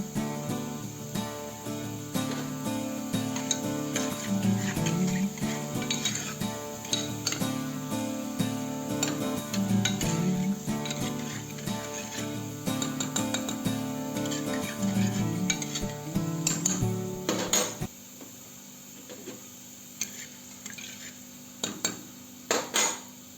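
Garlic roasts in a pan with a busy mix of sizzling and rhythmic scraping and clacking from stirring. The sound runs steadily for most of the stretch, then thins to a few sharp knocks and scrapes near the end.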